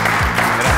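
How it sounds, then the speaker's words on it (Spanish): Loud, dense applause from a television game show audience fills the moment without pause, with low, falling tones sounding faintly beneath the clapping. "Un aplauso para usted, Héctor."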